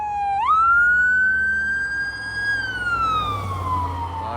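A fire truck and ambulance pass with emergency sirens wailing, one loud rising and falling siren tone sweeping up then slowly down over traffic rumble, close and dominant throughout.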